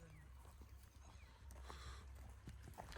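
A grey mare being led along gives off faint, irregular hoof clip-clops against a quiet outdoor background, with no one speaking.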